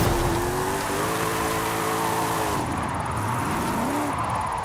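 BMW car in the Forza Horizon 5 racing game, a steady engine drone with shifting pitch as it revs and eases, close and continuous with tire hiss, no talk.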